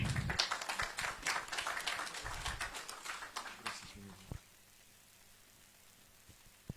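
Brief burst of applause from an audience at a book presentation for about four seconds, then fading into quiet room tone with a few isolated taps.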